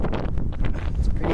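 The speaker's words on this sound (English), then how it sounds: "It's pretty windy up here." Gusty wind atop a fire tower buffets the microphone in loud, low rumbling bursts, with no other sounds coming through.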